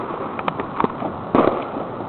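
Victoria Day fireworks exploding in the distance, a few scattered muffled pops and bursts over a steady noisy background of crowd ambience.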